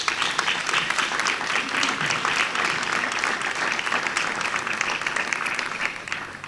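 An audience applauds honourees at a democratic-memory literary awards ceremony in Quart de les Valls, a dense, steady roar of clapping that holds loud for several seconds before easing slightly at the end.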